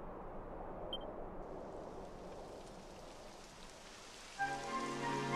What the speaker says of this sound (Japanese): やだ、雨が降ってきたわ。